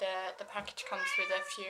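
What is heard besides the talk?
cat meowing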